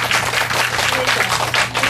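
A lecture-hall audience of parents at an elementary school education session breaks into applause, a dense, steady wash of many hands clapping close together for the whole stretch.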